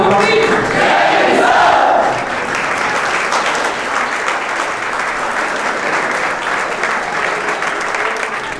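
Loud audience applause for guests at a Sunday morning honoring ceremony for a special SSB session, with crowd noise and shouts peaking in the first two seconds, then steady sustained clapping to the end.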